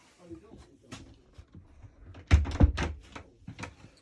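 Shower cubicle door in a 2019 Rollerteam 690 motorhome closing with a couple of close, muffled thunks, amid light handling noises and a person talking.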